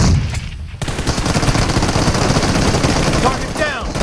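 Sustained automatic gunfire in a PUBG Mobile team deathmatch, dense rapid bursts running continuously and loudly from start to finish with a brief lull near the start and game voice callouts mixed in.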